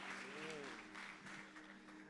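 Church congregation applauding a pastor, a faint, even patter of clapping for about two seconds while a voice talks over it.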